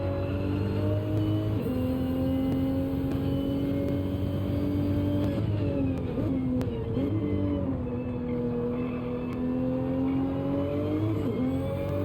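A race car in a sim racing game drives down Brabham Straight at Brands Hatch toward Paddock Hill Bend. The engine drones steadily at high revs, with pitch dips at gear shifts and lifts, loud and continuous.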